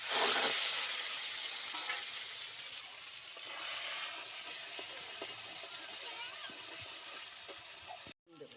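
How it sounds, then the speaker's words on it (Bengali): Bottle gourd leaf paste hits hot oil tempered with nigella seeds in a pan, giving a loud, steady hiss and sizzle that fades slightly over several seconds before cutting off abruptly near the end. "এবার লাউ পাতা বাটাটা আমি দিয়ে দেবো।"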